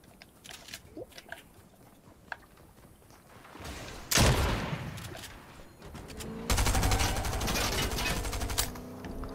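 Video game gunfire cracks out in bursts: scattered single shots early, then a loud sustained burst of rapid automatic fire midway, followed by dense continuous shooting through to the end.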